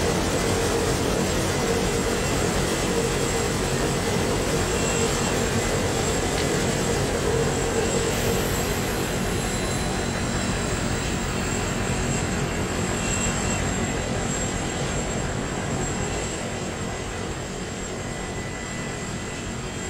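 An aircraft in Arma 2 flies in and lands, its engine a loud, steady droning roar that fills the whole stretch and eases slightly toward the end.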